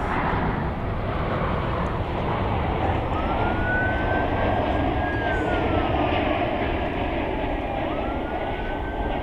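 A Boeing 777 airliner passes at DFW Airport with a broad, steady jet roar that fills the whole stretch, a faint rising and falling engine whine riding on top.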